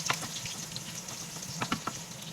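Onion sizzling in hot oil for a homemade pinakbet, a steady bright frying hiss with a few sharper crackles and pops, close and fairly quiet, with no voices.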